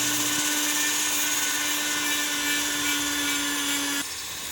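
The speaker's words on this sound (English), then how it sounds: "Now I switch to a little grinding point, and it does a pretty decent job of getting me started." A rotary tool fitted with a grinding point works the eye of a forged chisel made from a truck spring, giving a steady high-pitched whine at close range that runs for about four seconds before stopping.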